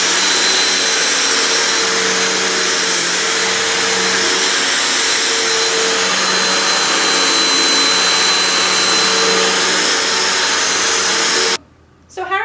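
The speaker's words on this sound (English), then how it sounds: "your dogs have issues with the vacuum" Vacuum cleaner running steadily and loudly at close range for nearly the whole stretch, a constant whine and roar that cuts off abruptly near the end, indoors during dog training.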